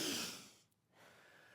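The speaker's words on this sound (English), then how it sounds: "Nice big deep breaths." A single deep breath during a stretching exercise, a soft airy inhale or exhale that fades into a brief quiet gap before faint breathy noise resumes, close and gentle with no talking.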